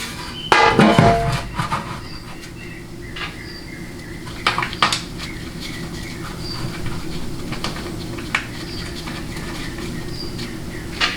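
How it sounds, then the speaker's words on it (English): Oil pan being fitted back onto a Dodge 47RE transmission case, with a loud metallic clatter at the start followed by scattered clinks and scrapes of metal parts and tools, close by. "let's go ahead and put the pan back on"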